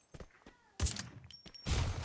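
Two loud bursts of gunfire ring out in a shooting video game, with faint talk and clicks before the first burst.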